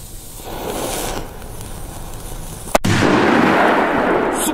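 One sharp blast from an Iskra firecracker, a Polish banger, snaps loudly, then gives way to a sustained crackling, hissing rush that fades slowly.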